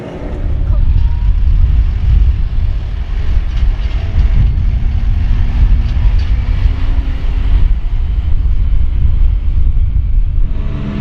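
A New Holland T5 140 tractor tows a trailer loaded with bales, giving off a continuous low, heavy rumble of engine and rolling wheels that holds steady and loud throughout.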